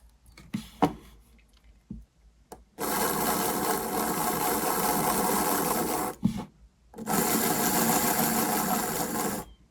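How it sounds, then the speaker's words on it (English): Small motor of a Hornby Tiny Tank model locomotive whirs in two sustained bursts as power is applied, with faint handling taps in between, close and alone. "I'm just going to apply some power to the wheels. Hopefully that'll start running."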